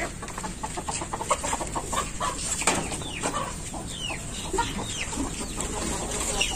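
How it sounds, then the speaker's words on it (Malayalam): Chickens clucking at a poultry farm, a steady mix of overlapping short calls and chatter from several birds, with some wing flapping mixed in at moderate loudness. "അപ്പൊ ഇവിടെ കോഴിന്റെ ഒരു ഫാം ഉണ്ട് കേട്ടാ"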